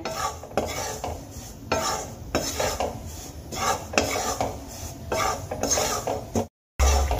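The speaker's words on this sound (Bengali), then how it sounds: "আমাকে কিন্তু চালের গুঁড়োটা বারবার নাড়িয়ে নিতে হবে যাতে করে চালের গুঁড়োটা নিচ থেকে ধরানেলে লেগে যায় বা পুড়ে না যায়" Rice flour dry-roasts in a pan for winter bhapa pitha, stirred over and over with repeated close scraping strokes of a utensil against the metal, with no voices and a brief cut near the end.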